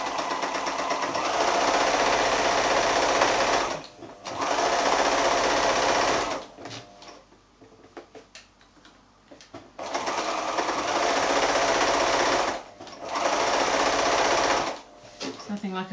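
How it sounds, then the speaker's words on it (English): An electric sewing machine stitching fabric onto a tea towel, running in long steady rapid whirring bursts that start and stop, with quieter gaps between runs; a person talks during the pauses. "Okay, so I'm just sewing quite close to that edge,"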